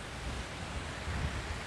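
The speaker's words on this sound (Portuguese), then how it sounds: "essa é a cachoeira da Mulata. A cachoeira mais top" Waterfall at Cachoeira da Mulata, a steady broadband roar of rushing water filling the scene, constant and fairly loud, with no talking.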